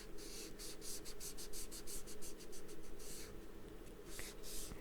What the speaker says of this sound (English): You can take your ink and kind of go lightly on the seam so you